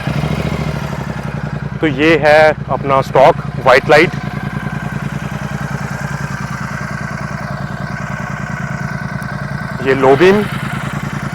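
A Royal Enfield Super Meteor 650 idles with a steady, even pulsing thump throughout, while someone talks over it in short stretches.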